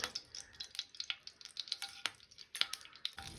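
Mustard seeds with ghee and oil in a hot pan crackle and pop in quick, irregular bursts, with soft sizzling close by and quiet throughout, and no voices.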